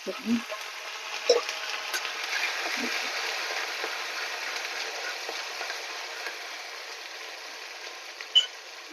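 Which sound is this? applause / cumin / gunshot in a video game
cumin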